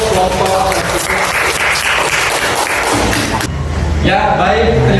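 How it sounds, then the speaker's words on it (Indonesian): A classroom of students applauds a presenting group, with loud, dense clapping close by and some thumps mixed in, briefly thinning before swelling again. "Tepuk tangan untuk kelompok."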